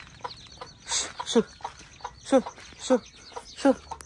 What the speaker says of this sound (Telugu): చిన్న ఉన్నప్పుడేమో కోడి పిల్లలు మంచిగా తల్లెంబడి వస్తాయి